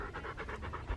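A puppy pants steadily out on a hiking trail, a quick rhythmic run of close, breathy huffs filling the moment with no talk over it.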